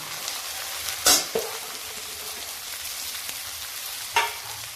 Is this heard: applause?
no